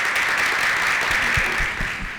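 A crowd applauds in a dense, steady wash of clapping that fades slightly toward the end.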